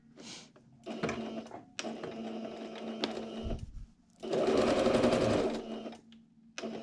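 A sewing machine stitches a fabric face mask in several runs, a close, steady rapid whirring that stops and restarts, with one louder, denser stretch in the middle.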